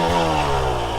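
A two-stroke dirtbike engine revs hard and close, its buzzing harmonic drone sliding slightly in pitch over one brief, loud burst with no talking.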